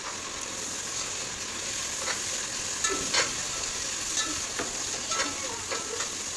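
Biryani masala and coriander stirred in a pan: a steady close sizzle with scattered scraping strokes of a spoon against the pan, no voices.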